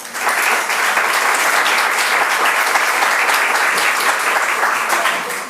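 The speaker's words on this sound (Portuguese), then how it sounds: "palmas para o doutor" Sustained applause from an audience welcoming a doctor who is taking over as moderator at a formal event, steady dense clapping that swells quickly and holds evenly for several seconds before easing slightly at the end.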